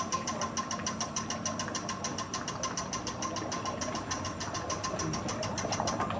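Ice cream machine churning eight quarts of mix, with its handle knocking back to give a steady rapid mechanical rattle and hum that runs evenly throughout, with no voices.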